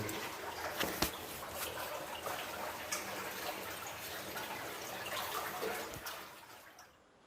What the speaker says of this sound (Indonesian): Area ini terdapat sungai di bawah tanah. Terdengar suara gembira airnya mengalir.